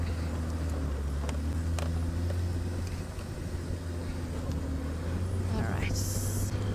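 A safari vehicle drives quickly, its engine producing a constant low hum with steady rumbling road noise throughout.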